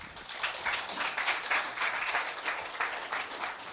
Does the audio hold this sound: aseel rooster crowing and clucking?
no